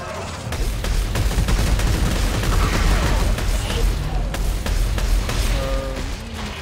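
Rapid gunfire in a video game rattles continuously, loud and dense crackling volleys with booming impacts, a faint voice or tonal cue briefly rising near the end.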